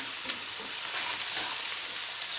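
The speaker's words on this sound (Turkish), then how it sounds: "şöyle bir karıştırıyoruz hafif aroması çıksın diye" Black pepper and chili powder are stirred in a hot oily pan for a spinach filling, making a steady, even frying hiss with faint stirring noise and no talk.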